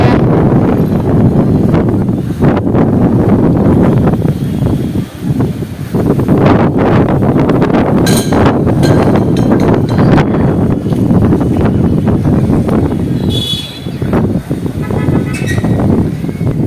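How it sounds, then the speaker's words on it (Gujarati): Strong wind buffets the microphone outdoors as the weather turns cool and gusty before possible rain, a loud continuous roar with rumbling low gusts that rise and fall throughout. "પવન બહુ છે અત્યારે"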